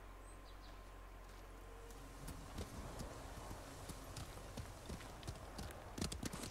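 A horse's hooves clip-clop in a quick steady rhythm across open ground in the samurai game Ghost of Tsushima, nearby and moderately loud, with faint birds and insects in the background.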